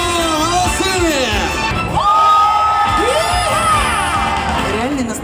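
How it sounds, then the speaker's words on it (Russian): An audience cheers and whoops loudly for the Brusko electronic cigarette brand at the Hookah Club Show, a dense steady crowd roar with shouts rising over it, while an amplified announcer's voice talks through much of it. "«Бруско» вновь на этой сцене! Дайте им аплодисментов!"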